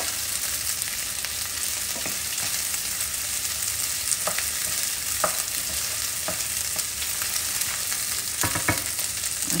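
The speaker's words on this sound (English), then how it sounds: "I do stir my meats a lot, only because I want to get them nice and evenly brown and coated" Chicken pieces stir and brown in a hot pan for Thai green curry, with a constant bright sizzle and repeated sharp scrapes and clacks of a utensil, no voices.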